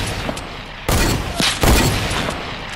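Gunfire in a one-on-one sniper battle video game: a continuous bed of loud, close shooting noise with two abrupt louder blasts partway through, and no voices.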